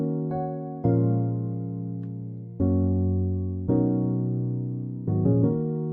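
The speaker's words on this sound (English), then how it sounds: "I used acoustic piano preset again, but I played these chords instead." A Kontakt acoustic piano preset plays a slow progression of sustained chords, five struck and held in turn, each ringing and fading before the next. The tone is clear and full.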